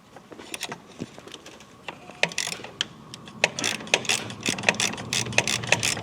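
A metal easy-out extractor grinds and ratchets inside a stuck bolt head on a 2020-2024 L5P Duramax, giving irregular clicking and scraping that builds into a denser rapid chatter toward the end.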